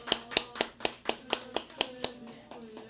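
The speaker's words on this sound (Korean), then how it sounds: "우리 축하하며 우리 박수하겠습니다" A small church congregation at a Sunday service clapping in a steady rhythm, about a dozen even, sharp claps spaced roughly a quarter second apart, moderately quiet in the room.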